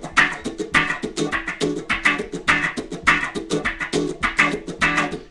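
An electric guitar plays a repeating rhythmic pattern through a wah pedal rocked in quarter notes, the tone sweeping open and closed in a steady pulse, clear and close with no talking.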